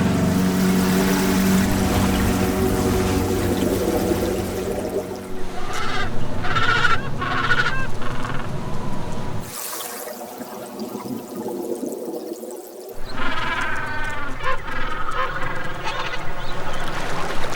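A flock of penguins on the Antarctic ice calls out in agitation, a dense chorus of honking, goose-like cries that fills the clip, dropping away briefly before the loud, overlapping calls resume.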